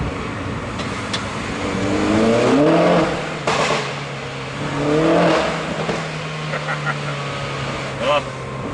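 A 288 bhp R56 Mini Cooper S revs up loudly in two rising surges through a tunnel at Goodwood, the exhaust roaring close by before settling to a steady drone.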